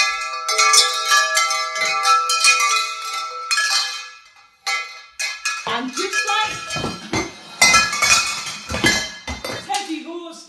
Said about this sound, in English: I can hear the chimes going and I know the wind is at work